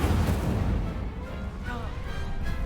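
Fiery spell blasts from the Incendio charm in a Harry Potter video game duel, a loud continuous roaring rumble with crackling bursts, dense and near, mixed with other spell effects.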